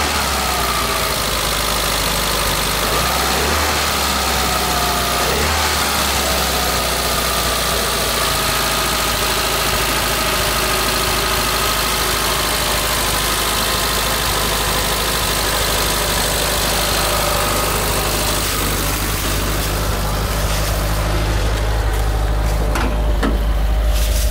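A 1986 Suzuki Samurai engine idles steadily up close, fully warmed up and idling over 1,000 rpm, a constant low rumble and vibrating drone that holds even throughout, with a few faint clicks near the end.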